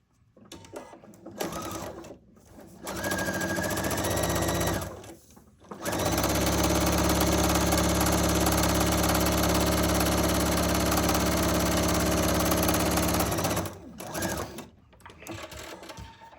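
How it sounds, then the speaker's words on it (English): Sewing machine stitching a quilt seam for a Chatsworth quilt, running in steady motorized bursts: a short run, a longer run, then a sustained stretch of about eight seconds, close and loud with no talking. "Get ready to sew our seam."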